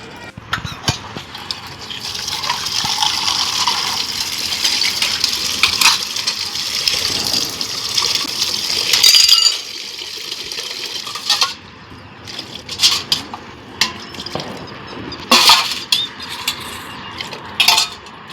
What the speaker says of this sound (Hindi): जो भी सूखे बर्तन थे उन्हीं को मैं इस बास्केट में लगाने में लगी हुई थी